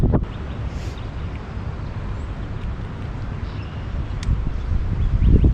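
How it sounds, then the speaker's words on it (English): Gusty wind buffets the microphone with a low, rumbling roar that swells louder toward the end, on the shore of Geist Reservoir. "It's windy as crap."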